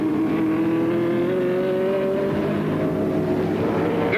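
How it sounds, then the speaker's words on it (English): A 1967 race car accelerates during the Rex Mays 300 as its rear tires smoke. The loud, continuous engine note climbs steadily in pitch, close and dominant, with no talk over it. "Gurney smoking those rear tires back into the race"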